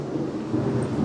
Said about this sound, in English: As you can hear all the thunder in the background